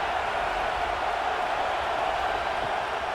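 Stadium crowd at a Portland Thunder versus Salt Lake Stallions football game roaring for the defense on a big third down, a steady, loud, distant wash of cheering with no break.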